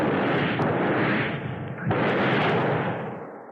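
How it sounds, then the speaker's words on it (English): A gunshot in a 1976 radio horror drama set at a lake, fired at a leech: a loud, broad blast that fills the clip, with a second surge midway, then a fading tail, no talk. "Shoot, Johnny!"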